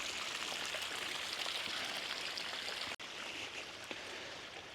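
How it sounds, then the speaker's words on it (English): Water from a pond bog filter runs back into a homestead pond, a steady broadband trickle and splash that stays continuous at close range with no talk over it, broken once by a brief dropout near the three-second mark. "This is a bog filter, so the water pumps up to the filter."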